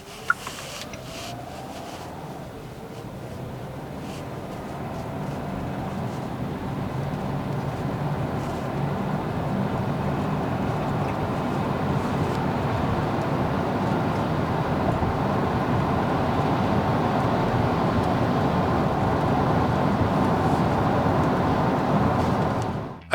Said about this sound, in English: A quick demonstration for you on how quiet the Tucson Hybrid is.